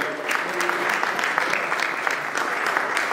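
A church congregation applauds during a French-language worship service, steady dense clapping from many hands filling the room at close range, with faint voices underneath.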